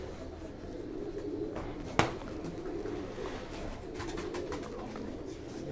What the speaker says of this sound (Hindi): मिक्स कबूतर जो हम आपको दिखा रहे हैं अभी